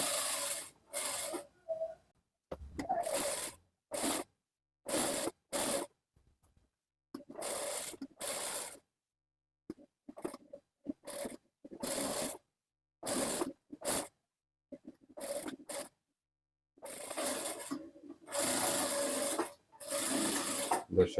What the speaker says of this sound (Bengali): আমরা মেশিনে সেলাই করে আপনাদেরকে দেখিয়ে দিব।